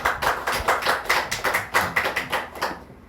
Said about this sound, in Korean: 다시 한번 뜨겁게 영광의 박수를 드립니다